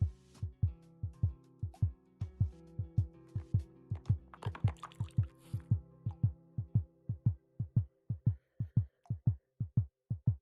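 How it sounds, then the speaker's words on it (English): A steady, rhythmic heartbeat of a person climbing through a tight cave in VR, with deep regular thumps about twice per second, close and prominent, a brief burst of other noise midway. "That is my heartbeat right now in real life."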